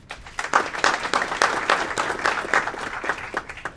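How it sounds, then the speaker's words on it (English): Audience at a city council meeting claps for award recipients, a steady round of scattered hand claps at moderate loudness, continuous for the whole few seconds with no talking over it. "I'm going to read their name and give them a round of applause just in case"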